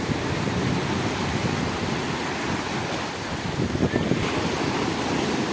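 Ocean waves at the sea, a broad, steady rush of surging water and wind, continuous and fairly loud, with no distinct voices.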